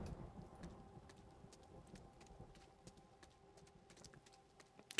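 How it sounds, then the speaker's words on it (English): Horses clop faintly in the distance near a manor's stables in a video game, a soft irregular patter of hooves over a quiet, hushed background. "I can hear horses in the distance."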